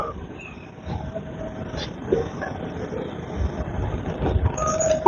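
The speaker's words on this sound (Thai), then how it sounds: "ก็เริ่มออกจากสถานีหัวมา" A metro train in Bangkok pulls out of a station, heard from inside the carriage as a low rumbling hum that builds slightly, with faint squeals and rattles over the steady rolling noise.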